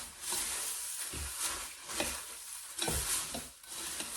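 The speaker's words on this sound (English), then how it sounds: "We are going to dump it on top of cereal. And just stir to coat it." Cereal coated in a hot boiled mixture is stirred, giving a close, hissy, sizzling rustle. Rhythmic scraping sweeps come about once a second and stay fairly loud and continuous, with no speech.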